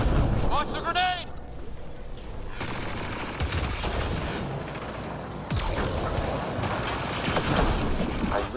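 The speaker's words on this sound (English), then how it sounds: "Launch the grenade!" A grenade launches and explodes in Mass Effect: Andromeda, with rumbling blasts and rapid gunfire in the battle, loud and continuous, under excited voices.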